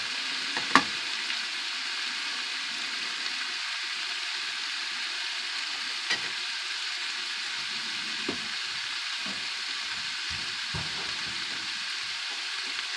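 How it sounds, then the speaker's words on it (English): Chopped onions sauté in a pot with a little leftover fat for sloppy joes, giving a steady broadband sizzle throughout, broken by a few sharp clinks and scrapes of a utensil against the pot. "Now it's time to add those onions."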